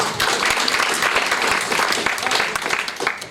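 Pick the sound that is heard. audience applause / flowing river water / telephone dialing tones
audience applause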